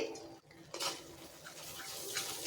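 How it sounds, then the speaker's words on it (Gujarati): Spoon scraping and clinking in a pot while yogurt is stirred into a desi black chana gravy, soft irregular metal scrapes and taps, close and quiet, with no talking. "દહીં નાખ્યા પછી આપણે એને બરાબર સતત હલાવવાનું છે"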